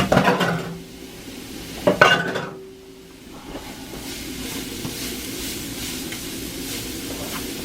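Twelve garlic cloves sautéing in a pan for a roast pork dish: a couple of sharp metal clinks and scrapes open, then a low, steady sizzle carries on alone.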